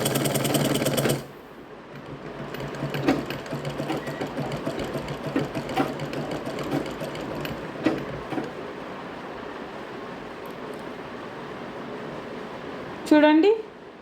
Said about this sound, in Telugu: ఒక పాదం లెవెల్లో అంటే మిషన్ పాదం లెవెల్లో ఒక కుట్టు ఇంకో కుట్టు వేసుకోవాలి